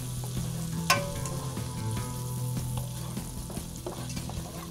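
Pasta sizzles steadily in a hot pan with chili flakes and garlic powder while being stirred, a continuous frying hiss with occasional clinks of the utensil against the pan.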